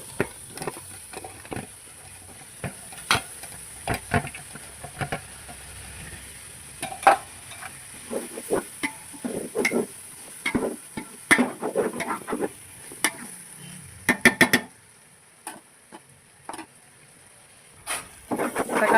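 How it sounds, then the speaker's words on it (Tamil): Tomatoes fry in a pan for prawn biryani, with a faint steady sizzle broken by repeated scraping and stirring strokes of a spoon, close and intermittent. "தக்காளி சேர்த்தாச்சு, நல்லா வதங்கட்டும்."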